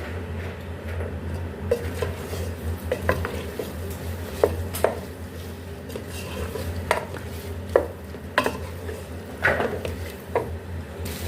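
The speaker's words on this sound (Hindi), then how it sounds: "अब इसको हम फ्राई कर लेंगे।" Boiled goat head pieces fry in a pot for siri nihari, giving a constant sizzle. A spoon stirs and scrapes against the metal, with scattered clinks and knocks throughout.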